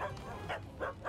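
A dog gives several close, fairly loud barks in a quick irregular series, with little else around.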